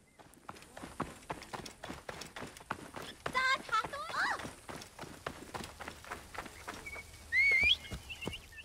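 Steady, rapid clip-clop of horse hooves at a run in Assassin's Creed Origins, close and continuous, with brief chirpy tonal game sounds mixed in.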